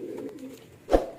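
A soft, low pigeon coo hums briefly, followed by a single short thump or flutter, heard close in a quiet space.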